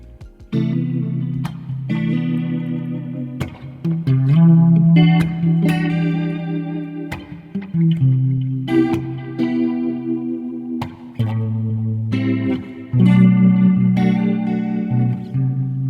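Clean electric guitar chords and notes through an Axe-FX III or FM9 with rotary, reverb and delay, a wavering, swirling modulation, spacious reverb and trailing echoes, played alone.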